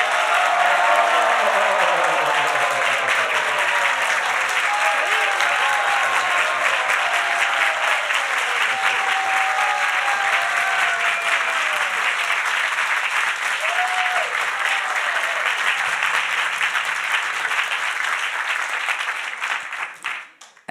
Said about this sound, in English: let's give them a round applause